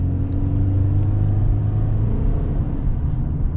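A 2023 Subaru Impreza accelerating at partial throttle, a loud, steady engine drone and road rumble heard from inside the car, alone with no talk.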